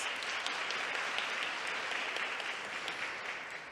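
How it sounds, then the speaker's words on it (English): Audience applauding a secondary school team at a STEM careers event, a dense steady wash of many hands clapping, fairly loud throughout and tapering slightly at the end, with no talk over it. "Please give them a round of applause."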